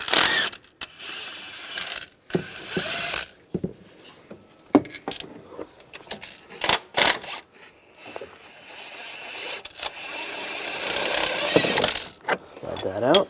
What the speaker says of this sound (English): with a 16mm socket, take these bolts out.